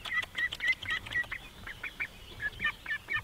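A pet duck at a homestead quacks and honks in rapid bursts nearby, calling repeatedly in an uneven rhythm with no one talking over it.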